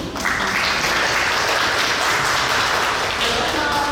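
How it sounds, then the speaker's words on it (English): Audience applause at a youth summer institute showcase, a full wash of clapping that stays steady throughout, with voices faintly mixed in. "Round of applause for Malik."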